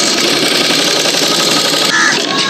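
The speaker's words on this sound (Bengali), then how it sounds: "ডবলের ঠিক আমি এই সাইডটা সেলাই করব।" A sewing machine runs steadily while stitching the doubled lower edge of a doll's frock, a close, continuous mechanical whir that stays even before shifting slightly in tone near the end.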